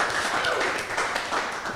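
Wedding guests at Meerendal cheer and clap in a brief, steady burst of applause mixed with raised voices, close and continuous.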